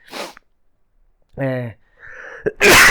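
A person sneezes sharply and loudly at the end, close and alone, after brief breathy sounds and a short stretch of voiced hum.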